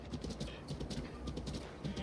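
Horse hooves clip-clopping in the Breath of the Wild video game, a quiet, regular rhythm of repeated hoofbeats trotting along with faint background ambience.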